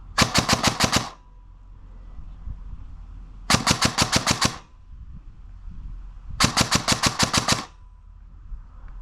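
Airsoft submachine gun fires three rapid full-auto bursts of BBs toward a distant sniper tower, each burst a tight run of sharp cracks separated by pauses with a low background hum.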